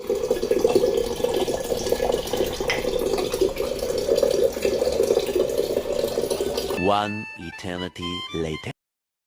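Tap water running steadily to fill containers at home before a tank cleaning shuts off the supply, a continuous close gushing that breaks off into short spurts near the end.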